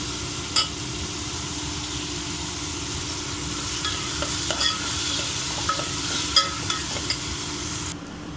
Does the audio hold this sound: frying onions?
yes